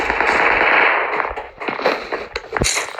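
Rapid bursts of gunfire from a multiplayer shooter video game crackle loudly and continuously, with sharp cracks and heavy blasts piling over a dense background of in-game noise.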